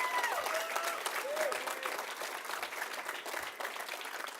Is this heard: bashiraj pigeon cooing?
no